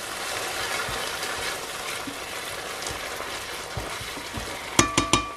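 Chopped coriander and parsley are stirred in a frying pan for chicken pastilla: a steady, even sizzle with faint scraping, then a quick burst of sharp metallic clicks at the end.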